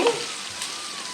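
Eggplant sizzles in hot oil in a pan while being sautéed for a gravy, a steady, even hiss with no talking.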